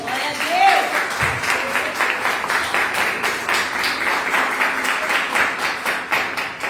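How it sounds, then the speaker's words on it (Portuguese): Worshippers in a church clap their hands steadily for a sustained stretch, a dense, even applause with a high tone briefly sliding in near the start. "Vamos aplaudir o Senhor pela sua palavra?"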